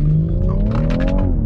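A BMW X3 M40i's engine held against the brakes at a launch as boost builds: a loud, steady, close drone whose pitch climbs gradually over a second and a half, with no talking.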